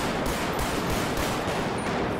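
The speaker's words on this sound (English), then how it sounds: "these guys are just shooting right now" Gunfire in GTA 5 from a police highway patrol mod, with dense, rapid, overlapping shots forming a continuous loud crackle.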